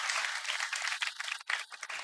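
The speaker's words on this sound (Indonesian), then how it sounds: "beri tepuk tangan kali lagi untuk Sarah." Studio audience at an Indonesian TV show applauding, a bright, continuous burst of many people clapping with a brief dip near the end, close and steady.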